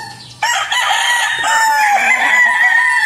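A UDC gamefowl rooster crows loudly and close by in one long, full cock-a-doodle-doo call on a backyard farm, with little else around it.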